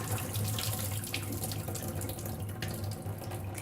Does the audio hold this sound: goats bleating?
no